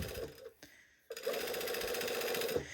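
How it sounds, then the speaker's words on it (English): A sewing machine runs a seam a quarter inch from the seam line on a statement sleeve, starting with a couple of short bursts and then going into a steady continuous stitching whir close by. "I'm sewing 1/4 of an inch from the seam line."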